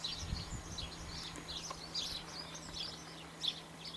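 Small garden bird, a dunnock, calling at a feeder outdoors on a May day, giving repeated faint high chirps and short tweets over a steady low hum and light background ambience.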